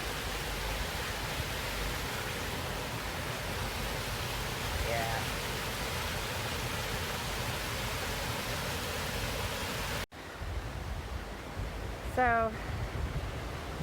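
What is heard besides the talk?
rushing of a small waterfall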